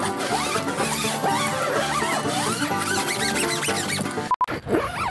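A zipper on an iKamper X-Cover rooftop tent window is pulled in a run of quick, rasping strokes, close and loud, with a brief pause near the end.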